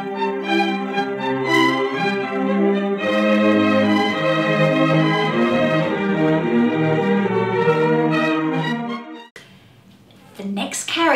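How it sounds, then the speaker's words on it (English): A string section plays Peter's theme from Peter and the Wolf in a full, bright, sustained melody that carries for several seconds before cutting off, followed by a brief quieter stretch and a faint voice. "And Peter is represented by the stringed instruments, and it sounds like this."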